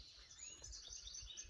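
Small birds at a feeder, chickadees and a white-breasted nuthatch among them, give faint, quick high chirps and tweets over a low background rumble, with no talking.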